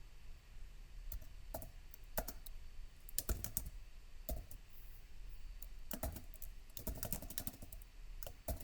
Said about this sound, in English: I just type the function's name here.